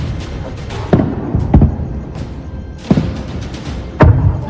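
Missile and drone attack explosions near Jammu's defence colony and airport come as a series of heavy, dull thuds. Five or six booms are spread irregularly over a few seconds, each with a short rumbling tail.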